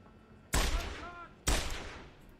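Two loud, close revolver shots from Deus Ex: Human Revolution, the second about a second after the first, each a sharp blast with a ringing tail and no talk over them.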